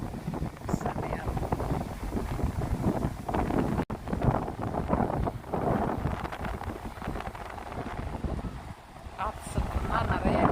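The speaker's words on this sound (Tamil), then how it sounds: "காற்று சத்தம்னா நிறையா கேட்கும். ஸோ அலைகள் வந்து அப்படியே அந்த பாறையில் மோதும் போது ரொம்ப சூப்பராக இருக்குது." Strong wind buffets the microphone at a rocky shore while waves break and surge against the rocks, a loud, continuous rushing roar with uneven gusts and swells.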